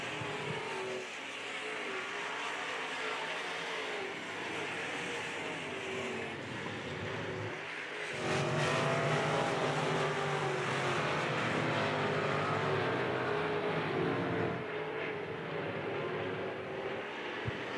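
IMCA modified race cars roaring past on a dirt speedway, a steady loud engine drone that swells sharply as the pack passes close, then holds a continuous roar.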